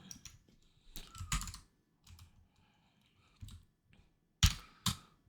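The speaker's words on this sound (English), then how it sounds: "Let's go ahead and type the find formula." Keys clack on a computer keyboard while a spreadsheet formula is typed, in short irregular bursts of quiet, close taps separated by pauses.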